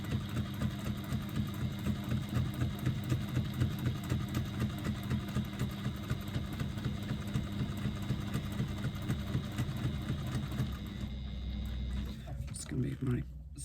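A hand-cranked sewing machine stitches slowly through fabric near a zipper, giving a steady rhythmic mechanical clatter of regular needle strokes that runs for most of the clip, then stops near the end, while a person talks over it.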